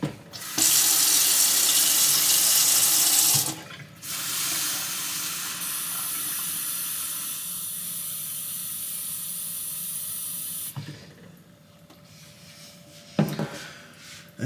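Water runs steadily from a kitchen tap for most of the stretch, loud and close, briefly cutting off and restarting before fading out near the end, while a drink with honey is being prepared.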